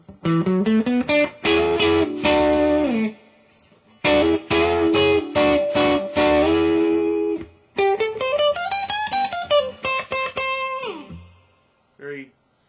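An electric guitar plays through a 1990s Hughes & Kettner ATTAX 80 amplifier on its clean channel with the reverb turned well up: ringing chords and single-note runs in bursts, with short pauses and trailing reverb tails.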